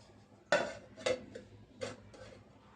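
A metal lid clanks onto a pot of small fish curry cooking on a stove. A loud first clink is followed by three or four softer metallic taps, close and otherwise quiet.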